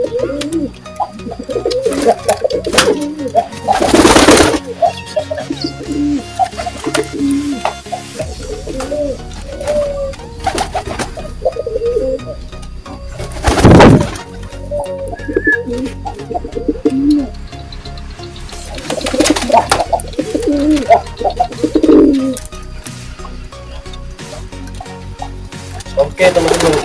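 High-flying racing pigeons coo again and again in throaty bursts, close to the microphone, while people talk intermittently and a few sharp louder bursts cut through.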